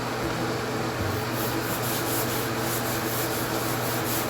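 Steady rubbing from a cloth wiping off wallpaper glue, a continuous close scrubbing hiss that holds at an even level throughout without pauses.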